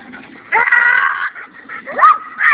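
A dog gives whiny, high-pitched yelps and whimpers, close by, in a couple of drawn-out bursts with short pauses between.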